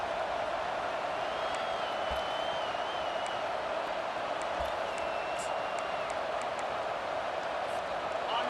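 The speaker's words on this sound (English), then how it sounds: "3rd down, and the crowd really getting into it." Stadium crowd noise in EA Sports College Football 25 on a third down, a dense, steady roar with faint whistles and whoops, running evenly throughout with no voices over it.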